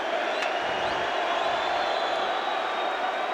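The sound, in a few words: hockey crowd applauding goalie Ed Belfour's save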